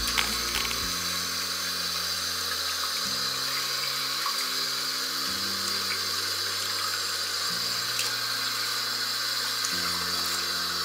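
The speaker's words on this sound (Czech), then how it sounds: "Stačí, že necháte tiesť trošku vody" Water runs steadily from a tap to rinse a Kaloud Samsaris hookah bowl, a constant hissing flow with a low, shifting hum underneath and no talking.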